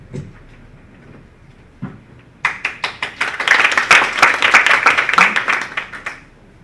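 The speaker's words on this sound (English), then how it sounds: "Please welcome Andy with our applause." An audience at a Taiwan–German conference forum bursts into applause for a speaker being welcomed. A few faint taps come first, then a dense round of clapping swells for about four seconds before it fades.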